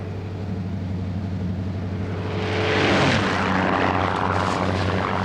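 Slow propeller-driven Defender airplane flying low, a steady droning engine hum that swells louder and nearer midway with a broad rushing sweep as it passes, then holds a sustained roar.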